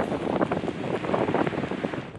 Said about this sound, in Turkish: İstanbul'da da sabah saatlerinde şiddetli rüzgar fırtınaya döndü.